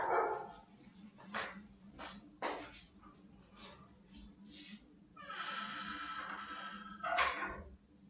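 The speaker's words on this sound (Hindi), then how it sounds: "ये पता नहीं किसका कुत्ता भौंक रहा है" A neighbourhood dog barks outdoors at a distance, sharp separate barks and a few yips spread unevenly across the stretch, with quiet gaps between them.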